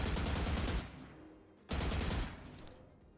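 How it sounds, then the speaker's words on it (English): Two bursts of full-auto fire from the Vandal rifle in the video game Valorant, each a rapid close string of shots lasting under a second before ringing off. "So if I hold down in 1 second, it'll shoot around 10 bullets."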